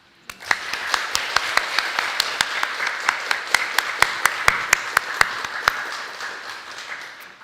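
An audience claps for students at a spring induction ceremony, a dense, steady applause lasting several seconds with sharp individual claps standing out near the front before it tapers off.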